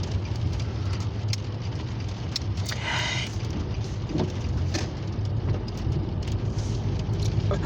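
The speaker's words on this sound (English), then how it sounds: "the rain just popped in right at the closing moments" Steady rain falls around a stopped vehicle beside a rail line in Titusville, Pennsylvania, with a low engine rumble underneath and a brief louder burst midway.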